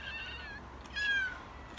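Kittens meowing indoors, a single clear, fairly close mew rising over a quiet room background near the middle, with faint softer cat sounds before it and no talking.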